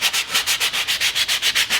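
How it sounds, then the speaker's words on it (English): A sanding block scrubs back and forth over rough edges in quick, even strokes, about a dozen close, loud scratchy passes with no talking. "just take a sanding block or sanding paper and it comes off really quick and easy"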